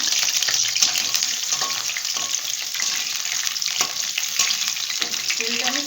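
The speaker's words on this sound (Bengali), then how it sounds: "আমি কড়াইতে একটু তেল দিচ্ছি, আলুটা আগে ভেজে নেবো" Potatoes fry in mustard oil in a wok, giving a steady, dense sizzle with crackling that runs throughout at close range.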